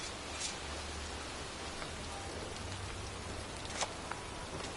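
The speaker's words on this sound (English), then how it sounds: "here I am, standing in a cemetery in pouring rain" Pouring rain in a cemetery in the video game Heavy Rain, a steady dense hiss of rainfall with a few sharper drip and splash accents, close and continuous with no talk.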